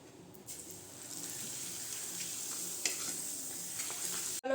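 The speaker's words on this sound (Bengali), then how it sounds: "এইখানে ভাজবো একটু পাপড়" Papad fries in a pan on the stove, a soft steady sizzle with faint stirring scrapes, quiet and continuous with a brief clatter at the end.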